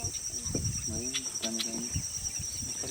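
A scarlet-headed blackbird, a marsh-dwelling icterid about 24 cm long, gives short harmonic whistled calls that rise above a loud, steady chorus of insects.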